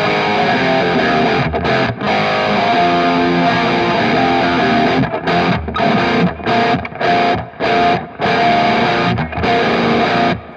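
Line 6 Helix guitar tone with the low end cut, the 250 Hz to 2 kHz mids boosted and the top end rolled off, loud, distorted, sustained chords with a few brief gaps, played alone.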